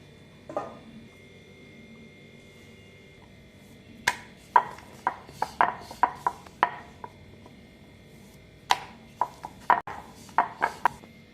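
A rolling pin works pea-filled paratha dough on a board, giving sharp wooden knocks and light taps in quick clusters, then a pause before another burst.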